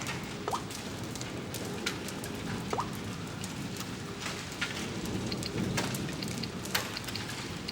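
Rain beginning to fall during a supercell thunderstorm, a steady close patter of drops on surfaces with scattered sharper drips and a low rumbling background, no voices.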